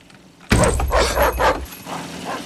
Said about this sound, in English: Could you please keep your dog on your side of the fence?